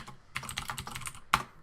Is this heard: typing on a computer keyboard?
yes